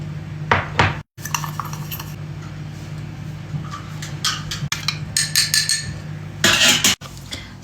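A small spoon scrapes and clinks against a jar and cup while instant coffee is spooned out for a milky coffee, a run of sharp metallic taps and chinks close up, with brief pauses and a low steady hum underneath.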